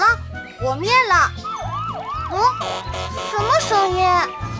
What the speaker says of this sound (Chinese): 无畏的消防车高迪来了。